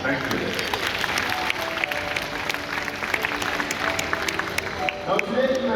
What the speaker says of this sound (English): Let's do so right now by giving them a big round of applause, everyone.